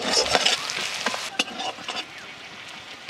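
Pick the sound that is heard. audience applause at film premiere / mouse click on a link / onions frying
onions frying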